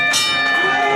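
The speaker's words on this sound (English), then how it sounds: "Our bell keeper just rang the bell." A bell at a professional wrestling cage match is struck once, giving a bright metallic clang that rings on and decays over about a second, loud and close.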